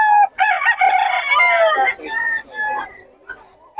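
A fighting rooster crows nearby, loud and drawn out, followed by shorter strained calls, with no words spoken.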